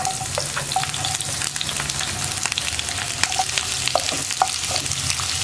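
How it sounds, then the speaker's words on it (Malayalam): Sliced onions are stirred and fried in a pan with dried red chillies for kadala curry, producing a continuous close sizzle punctuated by light spatula scrapes and clicks, with no voices. "സവോള ചേർത്തിട്ട് സവോളയുടെ കളർ നന്നായിട്ടൊന്ന് ബ്രൗൺ ഷെയ്ഡായി വരുന്നത് വരെ നമ്മളൊന്ന് ഇളക്കി കൊടുക്കുക"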